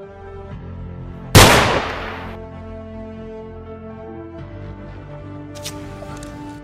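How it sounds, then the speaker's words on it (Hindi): A single loud gunshot-like bang with a sharp crack and brief decay, standing out over a steady background, followed by quieter ambience. "अबे किन्ना गोली चलाई?"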